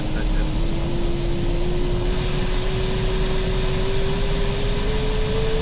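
LS3 glider in flight over Czechia, a constant loud airflow rush with a faint tone slowly rising in pitch, continuous from the cockpit with no voices.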